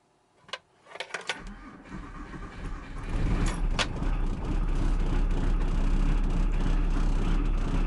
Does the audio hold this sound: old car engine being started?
yes